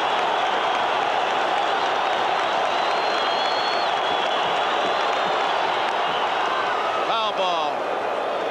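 A baseball stadium crowd at the 1980 World Series opener in Philadelphia roars continuously in a loud, sustained wash of cheering, with whistles rising above it and a sharp crack near the end.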